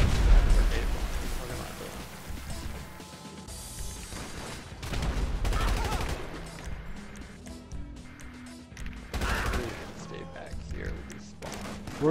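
Special carbine gunfire rattles in bursts during a Grand Theft Auto V Online mission, with loud clusters of shots and explosive thuds separated by quieter stretches, and game sounds and voices mixed in.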